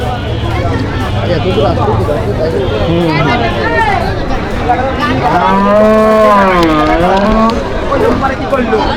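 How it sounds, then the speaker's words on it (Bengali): At a busy cattle market, a cow gives a long, loud moo close by, with a shorter low call before it, over crowd chatter and nearby talking. "গরু কার এটা"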